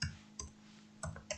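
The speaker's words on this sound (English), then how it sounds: "is just start typing in" Typing on a computer keyboard while an option name is entered into a database. A few crisp, quiet key clicks come in short, uneven taps close to the microphone.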